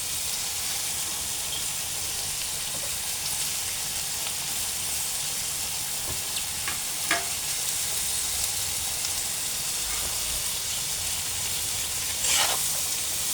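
Chopped tomatoes added to a pan of frying vegetables for noodles, a steady close sizzle and hiss with occasional stirring clicks and pops.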